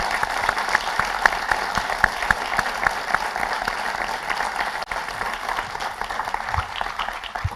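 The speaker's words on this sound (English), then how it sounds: "Round of applause" A room full of people claps steadily for several seconds, a dense patter of applause that fades slightly toward the end.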